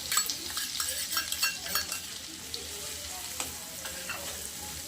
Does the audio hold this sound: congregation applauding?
no